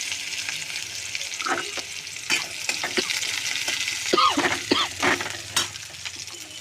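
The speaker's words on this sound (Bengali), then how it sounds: "আমি এবার পেঁয়াজ কুচিটা দিয়ে দিচ্ছি।" Chopped onion added to a hot pan of spiced oil with chilli, garlic, tomato, ginger and coriander, frying with a steady sizzle and occasional stirring clatters, close and fairly loud, with no talking.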